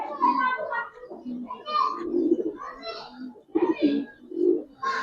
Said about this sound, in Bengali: এটা মাদি কবুতর, সিঙ্গেল মাদি পাকিস্তানি।